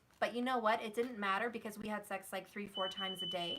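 A smoke alarm starts emitting a high, steady electronic tone near the end, sounding beneath continuous close-up talking.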